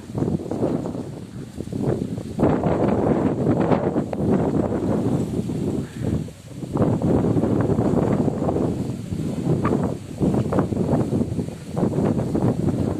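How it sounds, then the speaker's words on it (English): Gusts of wind buffet a camera microphone outdoors in Benidorm, a loud low rumbling roar that surges and drops in waves, with no clear speech. "Hope you can hear me alright with that wind now. Just a breeze, but sometimes it comes out bad on the camera."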